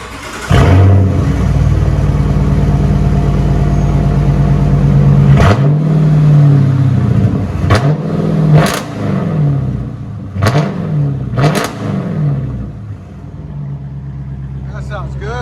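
A 2015 Chrysler 300S with a 5.7L HEMI and a budget aftermarket exhaust rumbles at idle, then barks out several sharp, loud revs in quick succession before settling back to a deep idle.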